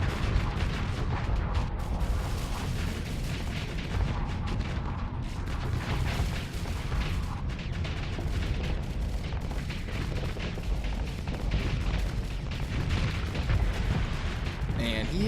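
Starship weapons fire on enemy ships in the Starsector space combat game, a dense, continuous barrage of booming shots and rumbling blasts that runs without pause, with talk over it.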